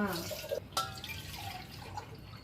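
Water is poured into a pot for semolina prasadam, a short splashing, dripping pour heard close up, with a light watery burble fading under faint background voices.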